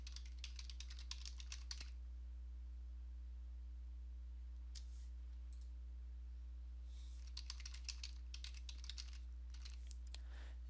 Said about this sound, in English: And we're going to type in troubleshooting.